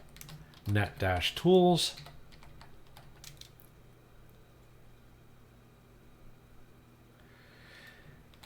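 Computer keyboard clicks, light and fairly faint, as terminal commands are typed; a short spoken phrase comes first and the tapping continues alone afterward.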